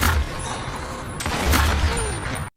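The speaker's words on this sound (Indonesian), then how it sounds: "Michael roboh tertembak peluru nitrat perak" Gunfire from a film scene in which a silver nitrate bullet is fired, two loud sharp blasts about a third of a second apart over a dense, rumbling soundtrack.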